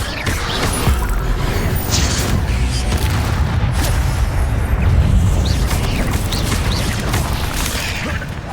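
In the video game Hogwarts Legacy, the Incendio fire spell roars as a loud, continuous rush of crackling, booming bursts amid dense battle noise, with no gaps.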